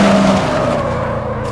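A car engine in a video game drones loudly and close, a steady tonal whine that eases slightly lower as the note fades, with no voices.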